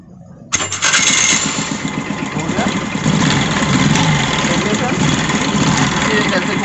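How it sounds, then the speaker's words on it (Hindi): A TVS Scooty Pep Plus scooter, recently repaired for a damaged belt and clutch shoe system, starts up after a brief quiet moment and settles into a steady, loud, close idle that continues throughout. "पहले हम स्टार्ट करके देख लेते हैं"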